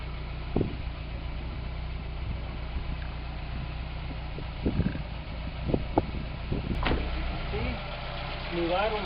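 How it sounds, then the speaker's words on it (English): A 1984 Volkswagen Jetta engine idles in a steady low hum, even and without stumbles, with a few brief knocks and clicks over it. "Smooth idle, no shaking, no misfire."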